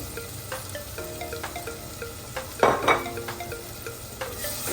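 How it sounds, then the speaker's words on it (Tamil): Chopped tomatoes sauté in a clay pot as the base of a fish curry, a soft steady sizzle with intermittent clinks and scrapes of a spoon stirring against the pot. "தக்காளி பழம் நல்லா வதங்க வேணும்"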